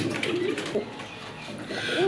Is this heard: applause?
no